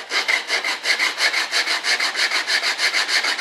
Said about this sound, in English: Just sand this corner a little bit.